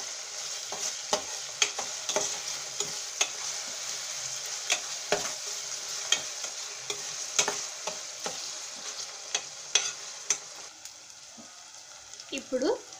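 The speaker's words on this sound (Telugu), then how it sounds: "ఈ లోపల ఆనియన్స్ కూడా వేగుతుంటాయి." Onions and green chillies fry in a pan, giving a steady bright sizzle with frequent spoon scrapes and taps as they are stirred, while a voice speaks briefly near the end.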